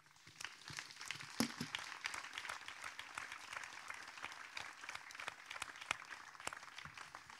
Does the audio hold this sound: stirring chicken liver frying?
no